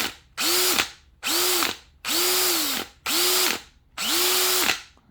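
A new Bosch 975 drill runs in five short bursts, each a loud whir that ramps up, holds and winds down with a ratcheting rattle after the trigger is released, close up and alone.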